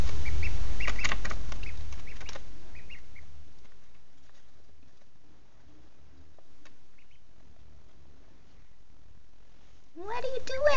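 Small Cayuga ducklings, two to three days old, peep and quack in short bursts, close by, with soft rustling and a voice at the very end.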